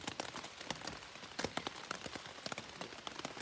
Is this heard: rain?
yes